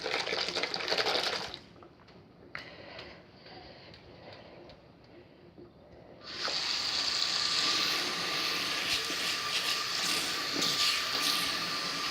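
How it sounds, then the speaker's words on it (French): A lever-operated bath tap, used to fill a baby's bath with toys floating in it, gushes water loudly and steadily. The flow stops briefly partway through, then resumes at full force. "Ensuite, je baisse le levier pour faire couler l'eau."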